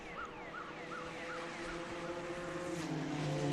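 Race car circuit action with a sustained engine drone and a rising, whining tone against steady crowd-like background noise, continuous and fairly distant throughout.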